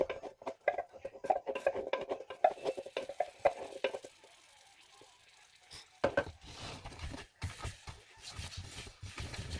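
Chocolate ube espasol mixture with coconut oil being stirred, giving quick repeated scraping strokes close by, a short lull near the middle, then brisker stirring again.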